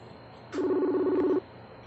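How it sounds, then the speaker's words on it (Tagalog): Telephone tone on a call being placed for a prank, a single short electronic ring lasting under a second, clear and close against quiet background hiss. "Ang next nating tatawagan ay si Marby Erin May"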